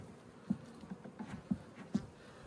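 A few honeybees in a small two-frame split hive with a newly introduced queen buzz faintly, the drone low and thin, broken by soft, irregular taps and knocks.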